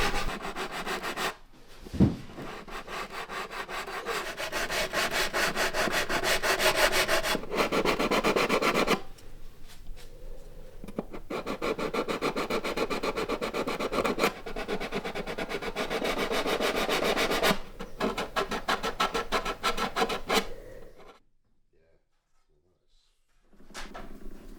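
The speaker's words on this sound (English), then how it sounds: "we'll finish with sandpaper and all the braces." Sandpaper rubbing over the wooden braces of an acoustic guitar soundboard during voicing, a steady close scraping rasp running almost continuously with brief pauses, then dropping away near the end.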